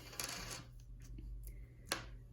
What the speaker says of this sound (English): Take one dice and you're going to roll it.